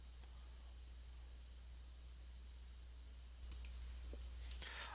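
A few faint, sharp computer mouse clicks sound late in an otherwise quiet stretch with low background hum, while a KDE desktop calendar is opened.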